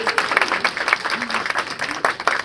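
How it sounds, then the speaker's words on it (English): An audience at a Curve NY trade event panel on social media selling applauds the panelists, a brief burst of clapping with some crowd murmur and voices mixed in. "Can we have a round of applause for our panelists?"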